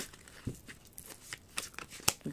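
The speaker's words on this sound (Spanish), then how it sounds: "quiero barajar bien." Tarot cards are shuffled close up in short papery riffles and soft crinkling flicks, quiet and irregular, with no talking over them.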